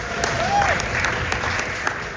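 An audience at a Country Bear Musical Jamboree presentation claps and stomps together, a steady dense wash of applause from a crowd filling the room.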